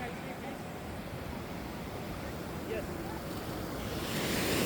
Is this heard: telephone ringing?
no